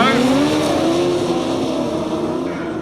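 Grasstrack racing bikes at a 2006 Berks Bonanza meeting rev hard together as the start tapes fly, a loud close engine roar with rising and wavering pitch that eases slightly as they pull away.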